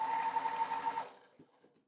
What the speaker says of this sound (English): And then I just alternate until I sew all of these together.